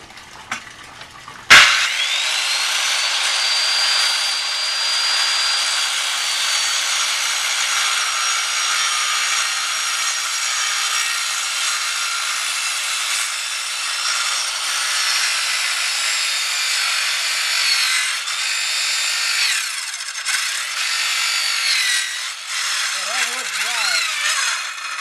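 A power saw cuts through wood for an indoor pond bog filter, starting abruptly and then whining continuously and loudly for over twenty seconds before trailing off, with brief speech near the end.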